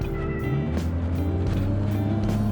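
A BMW E30 Hartge's engine revs loudly and close by, a continuous throaty drone whose pitch rises and falls with throttle blips, steady and unbroken throughout.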